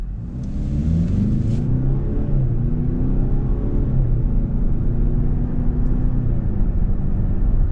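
A 2026 Lincoln Corsair with a 2-liter turbo engine pulls away from a stop, its steady engine rumble and rising drone rolling continuously and loud from start to finish.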